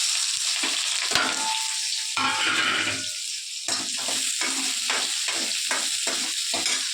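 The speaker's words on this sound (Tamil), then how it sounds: "வச்ச பூண்டும் சின்ன வெங்காயம் அப்புறம் பெரிய வெங்காயம் மூணையும் போட்டு வதக்குறோம்" Garlic, shallots and onion sauté in a pan for a South Indian fish curry, with a loud near sizzle and a run of rhythmic stirring scrapes in the second half and no talking.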